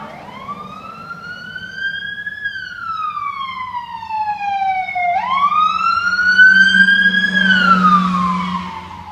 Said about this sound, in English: I hear another siren going.